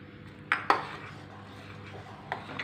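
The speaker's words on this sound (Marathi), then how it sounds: "आता याच्यात आपण ॲपलच्या फोडी टाकू" Apple pieces dropped into thickened custard in a pan, giving two sharp clinks of utensil on metal early on and softer knocks near the end, close and fairly quiet with no talking.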